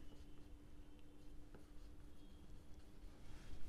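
A symbolic logic expression being written on a board during a class 12 maths lesson: faint, steady strokes of a marker or chalk in a quiet room, with no talking.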